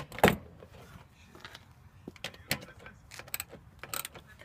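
Hardware on an outdoor swivel TV mount being tightened by hand, producing scattered metallic clicks, ratcheting and scraping sounds with short pauses between them, fairly close and moderately quiet.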